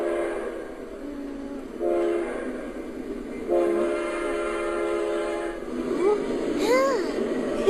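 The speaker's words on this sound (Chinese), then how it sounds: "是火车的声音。" Train horn blaring in long sustained tones that rise and bend, over a steady rumble of a passing train, fairly loud and close, with several separate blasts.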